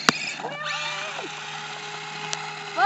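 A radio-controlled car's electric motor whines in rising, sweeping pitches as it pops a wheelie, with voices heard alongside.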